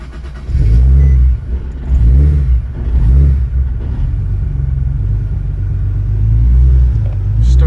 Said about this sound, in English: a full throttle pull third gear from 3000 RPM to red line